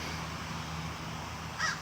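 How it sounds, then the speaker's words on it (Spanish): Out in green countryside fields, a bird caws once, briefly and at moderate distance, over a steady low background hum. "el chillar de las aves."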